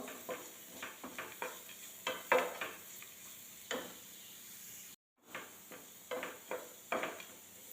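Cashews and onions fry in a pan for rava upma, with a soft steady sizzle under repeated scraping strokes of a spoon, about a dozen stirs with a brief gap midway.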